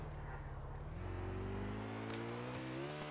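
A car in GTA IV comes up from behind, its engine rising and whirring louder with climbing tones as it closes in and draws near, heard alone without talk.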